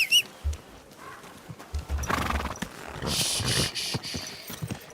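A horse moves about with scattered hoof clops and snorting, with a brief whinny-like sound early on, at a moderate distance in a noisy outdoor setting.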